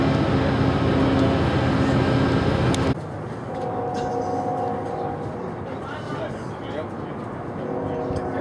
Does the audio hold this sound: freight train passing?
yes